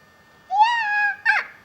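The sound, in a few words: child imitating a cat's meow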